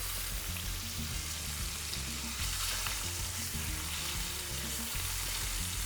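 A rib-eye steak searing in a hot pan over high heat, a loud, dense, continuous sizzle with faint stirring, close up and with no talk over it.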